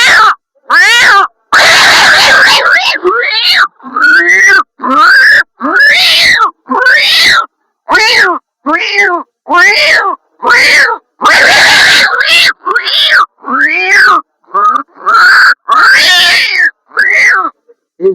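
A voice mimics two cats fighting, trading loud yowls, caterwauls and snarling growls in rapid bursts separated by short pauses. The sounds are close and very loud and carry on for a long stretch.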